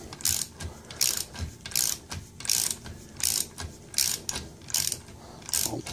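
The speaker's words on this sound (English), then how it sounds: "Reset the wrench." A ratchet wrench clicks in steady repeated bursts of pawl ratcheting as it works on a 7.3 diesel cylinder head, close and loud, with no talking.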